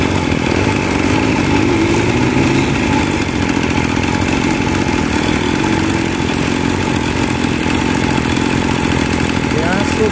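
A tuned Mobilete moped with a modified crankcase runs in a loud, steady drone, the engine holding and slightly building revs as it pulls along a short straight, close and continuous throughout.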